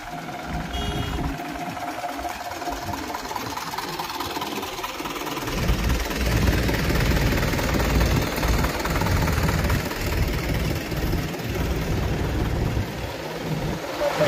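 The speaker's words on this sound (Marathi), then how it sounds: "सिमेंटला पास आउट करण्यासाठी, सप्लाय करण्यासाठी जे मशीन आहे" A cement supply machine's engine runs continuously nearby at a railway bridge construction site with a steady rumbling drone, growing slightly louder partway through.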